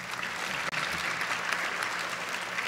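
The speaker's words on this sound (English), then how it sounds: "Let's have a round of applause for them." Steady applause from an audience fills the room, a continuous wash of many hands clapping at a constant level with a brief dip partway through.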